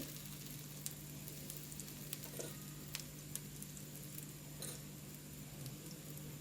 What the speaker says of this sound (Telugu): ఇప్పుడు దీన్ని అంచుల నుంచి కొద్దిగా సెపరేట్ అయ్యేంత వరకు కాల్చుకోవాలి